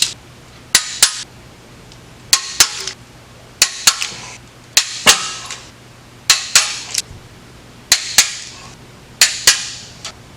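A torque wrench clicks sharply, set to 30 foot-pounds on a Chevy 327 engine rebuild: close, crisp metallic clicks in pairs and short bursts, repeated roughly every second or so with brief ringing tails, over a faint steady hum.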